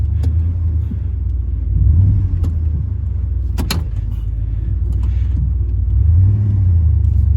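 Engine of a Ford F150 with a 3.0 engine and a blown transmission low on fluid, a steady low rumble idling close by with two brief swells as it revs, plus small clicks and a faint clunk.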